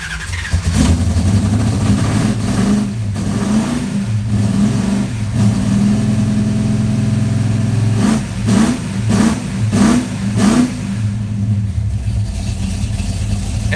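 A carbureted Dodge Charger engine with a fuel pump giving too much pressure and flooding the carburetor starts and runs with a loud, rough, close idle, then revs in several quick blips before settling.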